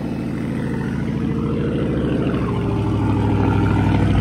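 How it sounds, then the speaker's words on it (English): A Dodge Challenger Hellcat Jailbreak engine rumbles loudly and steadily up close, its deep exhaust note pulsing evenly throughout with no voices. "We finna start the Hellcat up and move it into the garage."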